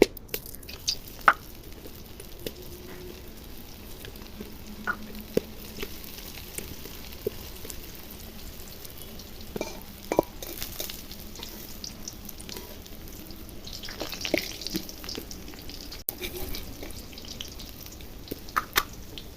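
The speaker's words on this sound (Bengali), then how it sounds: "কড়াইটা গরম হয়ে গেছে, তেল দিয়ে দিয়েছি। এবার এগুলো ভেজে নিচ্ছি।" Soaked masoor dal and egg pieces frying in hot oil in a kadai, a quiet continuous sizzle broken by scattered small pops, clicks and stirring scrapes, with no one talking.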